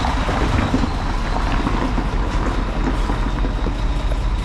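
Heavy rain pours down steadily and close, a dense, continuous wash of noise with a deep rumble beneath, loud and unbroken throughout with no voices.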